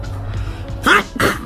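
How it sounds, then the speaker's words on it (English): A person sneezes twice in quick succession while browsing small Madagascar palms in a plant shop, with a soft breathy build-up and faint background murmur before the sneezes. "I have to sneeze."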